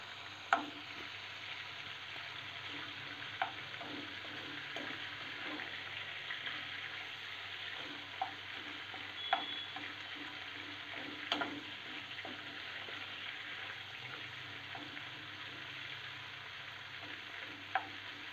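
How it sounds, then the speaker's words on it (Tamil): Prawns fry in a pan with a steady, close sizzle and crackle of hot oil, broken by a few soft clicks and taps of a utensil, with no voices. "இறால் வந்து கொஞ்சம் கொஞ்சமாக வந்து சுருங்க ஆரம்பித்தோன்னா நீங்கள் இன்னும் சைடு வந்து திருப்பி போட்டுருங்க."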